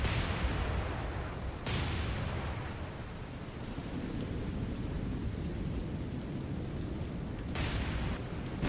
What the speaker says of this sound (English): New Orleans was just struck by 2 torpedoes